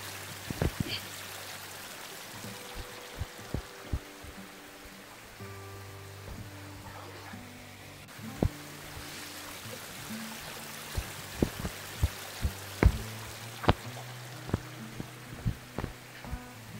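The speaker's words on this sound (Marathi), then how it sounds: "तुम्ही ना पाण्याचा पडण्याचा आवाज ऐका" Water falls in a thin trickle from a low flow, heard as soft continuous splashing with irregular louder drips and plops, faint and close in an otherwise quiet setting.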